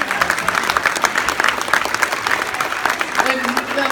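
Audience applause at a talk event with a basketball player, a lively, dense clatter of many hands, with crowd voices and cheering mixed in throughout.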